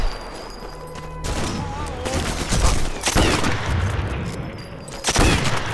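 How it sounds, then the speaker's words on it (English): Gunfire in the snowy Sniper Elite 4 winter market level, a series of loud shots and blasts with long rolling echoes off the mountains, fairly dense and close, with occasional voices mixed in. "Do you hear the echo in the guns, like when you shoot?"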